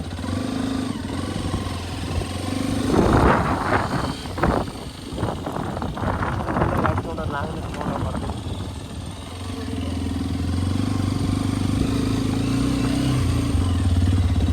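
A motorcycle engine hums along steadily on the way to Basadi Betta hill near Tumakuru, with wind buffeting the microphone, the rumble rising and falling, plus a stretch of clattering, rushing noise in the middle.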